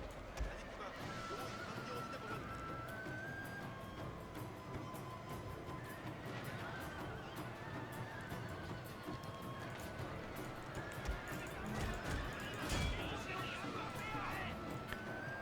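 Cavalry horses charging downhill in the Shogun 2 battle game, a dense rumble of galloping hooves and battle noise with occasional whinnies, played continuously beneath someone talking excitedly.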